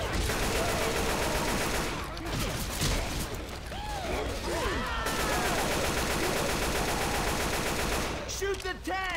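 Rapid automatic gunfire from Left 4 Dead 2 rattles nearly nonstop, with sustained bursts broken by short pauses and whooshing game effects, while players shout over the action.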